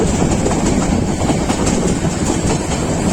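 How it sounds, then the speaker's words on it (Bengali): A railway locomotive rolls past close by on a Bangladesh line. Loud, steady rumbling and rattling wheel noise with faint clickety-clack runs throughout, and no one speaks. "ট্রেন না লোকোমোটিভ যাচ্ছে"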